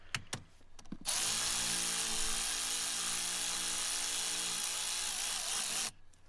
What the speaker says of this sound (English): I can whiz that terminal now back onto that block with the old Milwaukee electric ratchet